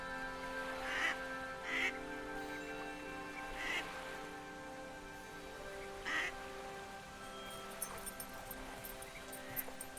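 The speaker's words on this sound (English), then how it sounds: "I think they are ring-necked ducks." Ring-necked ducks quack in the video game Farewell North, with a few short quacks spaced a few seconds apart over a steady rain-like background hiss and a sustained tonal drone.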